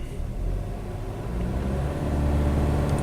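Car engine revving up during a scan-data check for a P0420 catalytic converter code, a steady close low rumble that swells slightly as the revs climb, with no talking.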